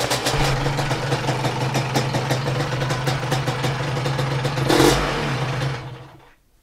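A Vespa scooter engine holds steady at about 3,500 revs, a close, buzzing two-stroke drone with a brief louder burst near the end before it cuts off and falls silent.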